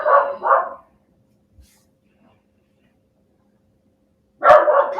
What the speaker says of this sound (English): That's my awesome dog telling me that someone's walking their dog down the street.